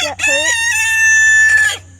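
A chicken close by gives a loud, drawn-out squawking cluck, standing alone with no talking.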